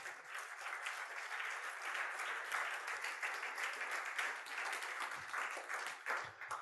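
A church congregation breaks into steady, sustained applause that stays at an even level the whole time, a dense wash of many hands clapping in a large room with no voices on top.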